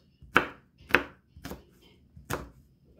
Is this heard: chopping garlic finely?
yes